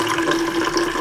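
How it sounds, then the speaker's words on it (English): Water poured into a Pringles can rigged as a homemade CPU cooler, a brief, steady splashing fill with a hollow resonant tone, close and loud. "Let's try and put some water in it."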